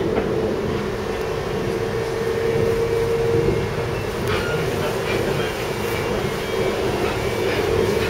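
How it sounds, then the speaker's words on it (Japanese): Interior of a moving KTM commuter train in Malaysia, a loud steady rumble of wheels and carriage noise with a faint tonal whine, continuous throughout. "レンバン行きの電車の中にいます。"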